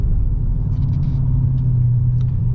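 Deep, steady rumble from a Dodge Charger R/T with a 5.7L V8, heard from inside the car, holding a low drone throughout with no talking.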